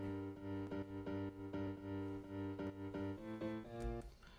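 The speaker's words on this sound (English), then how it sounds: "The first layer of the organic group is the piano." A piano layer in a melodic dance track remake plays rich, sustained chords, struck repeatedly in an even rhythm and shifting to a new chord near the end.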